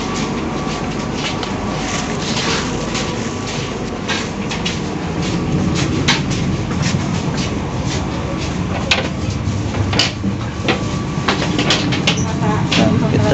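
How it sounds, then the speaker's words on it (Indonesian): Inside an economy-class carriage of the Cikuray passenger train in motion: a loud, continuous rumble with rattling and clicking from the rails, and voices talking over the noise. "Nah, ini interior daripada kereta api ekonomi Cikuray."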